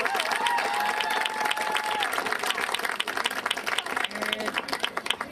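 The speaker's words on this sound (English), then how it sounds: "So a round of applause to the Pumas." Applause and cheering from a crowd at a girls' under-11 soccer finals match, steady clapping filling the whole stretch with voices and shouts mixed in.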